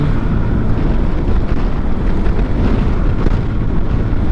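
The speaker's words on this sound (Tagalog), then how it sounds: "Din lakas-lakas pa ng hangin." Strong wind roars loudly and continuously, buffeting the microphone with a dense, rumbling rush and no voices.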